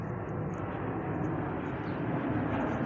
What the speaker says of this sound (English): Let the plane go by.